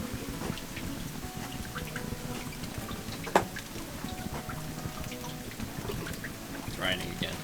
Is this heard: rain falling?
yes